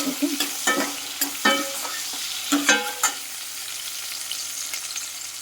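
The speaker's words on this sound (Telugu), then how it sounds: "పోపులు మాత్రం చాలా బాగా ఫ్రై అవ్వాలండి మెంతులు" Fenugreek seeds and other tempering spices frying in hot oil, a steady crackling sizzle with several sharp scraping stirs and clinks early on that settle into a quieter, even fry.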